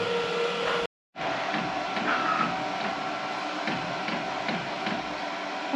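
A direct-to-garment printer prints a design onto fleece shorts, a steady mechanical whir with rhythmic clicks and shuttling passes after a brief silent gap, close and fairly loud with no one speaking.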